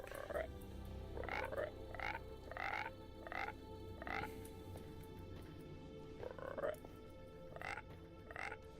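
A frog in a Minecraft mod made with MCreator croaks over and over, a series of evenly spaced, fairly close croaks with a brief gap midway, over a low background hum.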